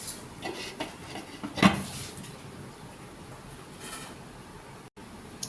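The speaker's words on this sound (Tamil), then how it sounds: "கொஞ்ச நேரம் மூடி வைக்கலாங்க" A lid set down with one short clank on a pan of garlic fish gravy simmering with cumin, heard close against a soft, steady kitchen background.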